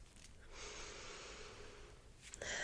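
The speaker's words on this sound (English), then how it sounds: "Take a nice deep breath in." A long, steady breath drawn in through the mouth, airy and fairly close, lasting about two seconds before a brief stir.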